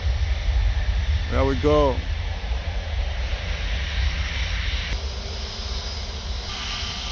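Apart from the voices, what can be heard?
Wizz Air Airbus A321 taking off at Paris Orly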